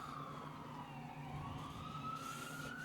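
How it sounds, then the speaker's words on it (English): A siren wails steadily in the distance, its pitch sliding down and back up over a rumbling background of traffic or an idling engine. "Did you hear the sirens?"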